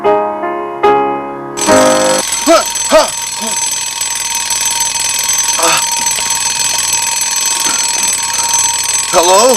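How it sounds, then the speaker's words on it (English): An alarm clock rings loudly with a bright, insistent electronic tone that carries on steadily while animated voices talk over it. "That's an alarm clock, PJ"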